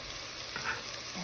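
Chopped garlic sizzles in a hot frying pan as fried rice is cooked, giving a steady crackling fry with a soft stir or clatter near the middle.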